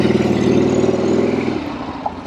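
Harley-Davidson Ironhead Sportster motorcycle engine running with the clutch in and kickstand up, a steady, close, fairly loud low rumble that eases off slightly toward the end.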